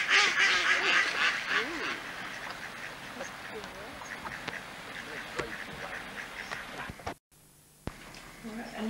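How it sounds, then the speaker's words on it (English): Ducks quack repeatedly from a pond or pen at a family christening gathering in the early 1990s, fairly close and busy, under children's and adults' chatter, then a brief dropout near the end. "And then the four ducks over there. Ducks. Right over there, ducks."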